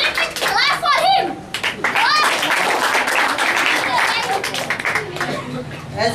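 A room of students claps for a debater at a school debate, a scattered patter of hands mixed with children's voices and chatter, fairly close and lively.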